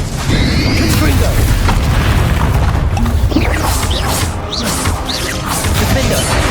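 Bombarda and Confringo explosion spells in the Hogwarts Legacy video game go off as a dense, loud run of booms, crashes and bursts, layered over a constant roar of in-game battle noise.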